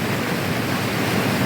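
Waterfall water rushing around rocks in a creek in Vancouver Island's Alberni Valley, a steady, dense, full-bodied roar with no breaks, close and loud throughout.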